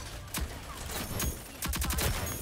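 Gunfire in the Rogue Company video game aimed at a stuck bomb, heard as a quick burst of shots followed by a tighter rapid volley a moment later, close and sharp over a steady background hum.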